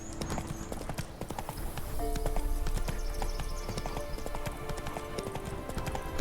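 Rapid, rhythmic hoofbeats of a galloping horse in The Witcher 3: Wild Hunt clatter steadily throughout, with faint tonal sounds in the background.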